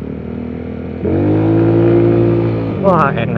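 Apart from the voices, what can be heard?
Yamaha Mio bore-up injection motorcycle engine revving during test ride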